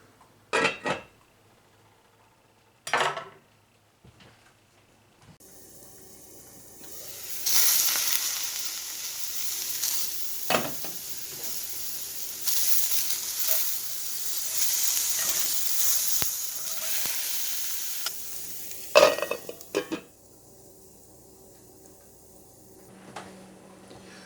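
Sunchokes frying in a skillet: a steady hiss and crackle of sizzling fills most of the stretch after a few pan and utensil clatters, close and moderately loud, with occasional knocks.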